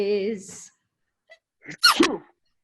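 A voice speaks briefly, then after a pause a single loud sneeze bursts out, close and abrupt, with a short gasp leading into it.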